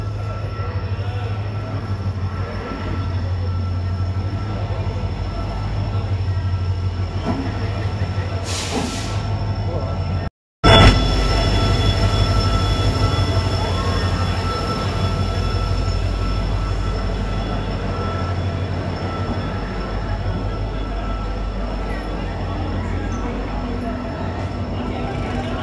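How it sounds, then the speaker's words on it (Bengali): SMVT Bengaluru Express pulling into a station on the Howrah to Bangalore route: a loud, steady low rumble of rolling railway cars and wheels with hiss, continuous throughout, briefly cut out mid-way, with no talk. "আর এই যে আমাদের ট্রেন ঢুকছে 1224 SMBT বেঙ্গালুরু এক্সপ্রেস"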